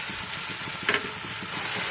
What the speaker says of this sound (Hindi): इसे हम करीबन 30 सेकंड के लिए फ्राई करेंगे ताकि इसकी स्मेल खत्म हो जाए।